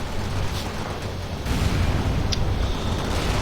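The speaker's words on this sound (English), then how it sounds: "Fire support incoming." Artillery fire support strike in the World in Conflict video game: a sustained, loud rumbling barrage of distant explosions, swelling heavier midway and holding a dense roar to the end.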